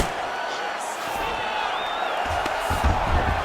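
A UFC 5 video game arena crowd roars and cheers at a fight, a continuous dense wash of voices with a few sharp whoops and a couple of thumps near the end.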